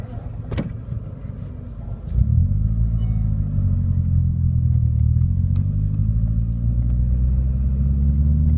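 A manual-transmission car's engine rumbles steadily and close up, rising into a louder, sustained drone after a brief shift, with no talking over it.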